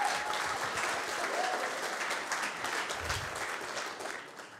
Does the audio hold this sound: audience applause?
yes